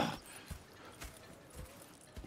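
Horse hooves clip-clop in Red Dead Redemption 2, a steady walking rhythm of soft, muffled thuds about every half second, close and moderately loud with no talking.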